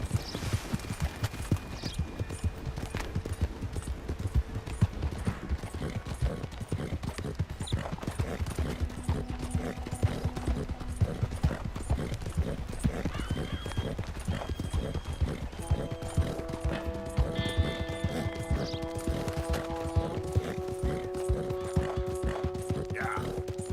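Horse hooves clip-clop in Red Dead Redemption 2, a fast, even, close rhythm of hollow knocks running throughout, with sustained tonal game sounds layered in later.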